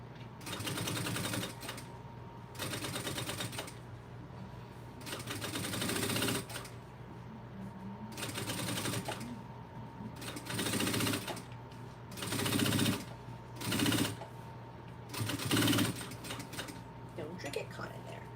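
A sewing machine stitches the Magdalena Circle Bag in repeated bursts of mechanical whirring, separated by short pauses, close and fairly loud throughout.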